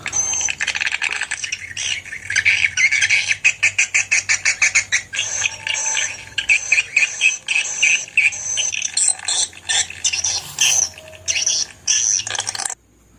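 Recorded songbird call, an SP Planet Pool sound lure, played back as loud rapid chattering trills and repeated sharp chirp bursts that continue without a break for about thirteen seconds.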